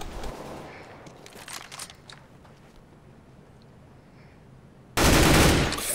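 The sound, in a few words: gunshots in the video game CS:GO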